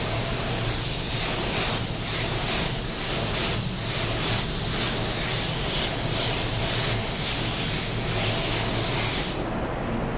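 Meiji Finer Core paint gun laying down a second coat in a spray booth, a steady loud hiss of atomized paint running continuously and cutting off abruptly at the end.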